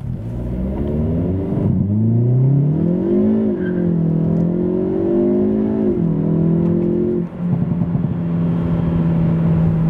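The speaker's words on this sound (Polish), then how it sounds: "tak przykładowo wygląda sprint od 0 do setki bez żadnych przygotowań z launch control" A 2022 Hyundai i30 N Fastback with a 2.0 T-GDI 280 hp engine sprints from 0 to 100 km/h, its loud exhaust rising through the gears with short dips at each shift, close and steady for the whole stretch.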